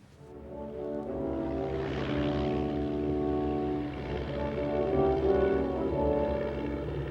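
A propeller airplane drones steadily in flight in a Corto Maltese animated scene, a continuous low engine hum with layered harmonics holding at a moderate level throughout with no talk.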